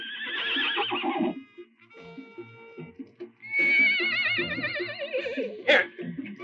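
Several horses whinny and neigh loudly in a Western outdoor setting, with wavering cries rising and overlapping, one sharp burst near the end, over a low rumble of movement and faint hoof sounds.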